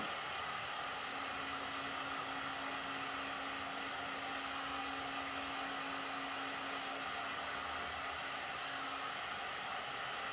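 A heat gun blows steadily to shrink tint film on a car's rear window, a continuous broadband whooshing roar with a faint steady hum throughout, no speech.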